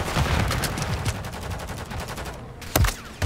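Sustained exchange of gunfire in the shooter Call of Duty: Modern Warfare 3, with rapid overlapping bursts, a short lull, and then a sharp close shot before the firing picks up again.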